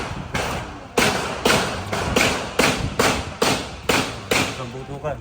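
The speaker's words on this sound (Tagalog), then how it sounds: "Narinig yung putukan na yun." Gunshots ring out at a shooting range, about ten sharp reports in a fairly even rhythm, each loud and close with a short reverberant tail.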